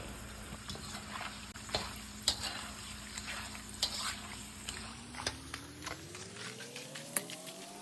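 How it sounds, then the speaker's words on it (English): Cassava chips frying in a pan of hot oil at home, a steady close sizzle with scattered crackles and pops throughout, joined near the end by a faint rising hum. "My daughter picking chips while they frying."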